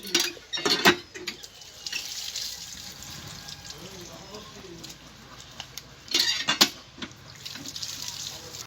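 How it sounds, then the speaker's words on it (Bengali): Cut pieces of rohu fish are rinsed in water, with running tap water and splashing in bursts near the start and again later, softer sloshing and handling in between, no talking. "মাছটাকে আমি ধুয়ে নিচ্ছি।"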